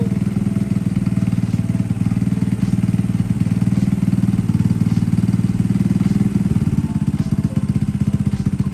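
A Boom Vader motorcycle fitted with a Nibbi PE 24mm carburetor idles at about 1,000 RPM, a loud, close, steady chugging putter with a fast even pulse that runs throughout without talk.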